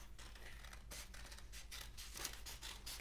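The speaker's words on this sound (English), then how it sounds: "Remember to be very careful with scissors." Scissors snip through paper for a Christmas stocking craft in a steady series of quiet rasping cuts, close and faint, with no talking.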